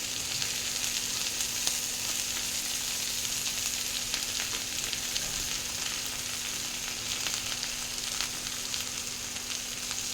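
Peanuts fry in a pan for a ridge gourd dish, giving a steady, even sizzle at moderate level that runs unbroken throughout, with a faint constant hum beneath and no talking.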